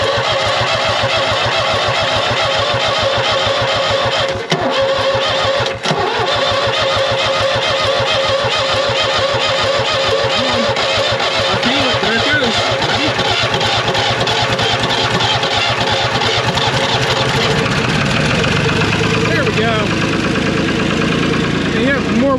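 New Holland L783 skid steer diesel engine, just primed with fuel, cranking and catching, then idling with a loud rough knocking chug close up.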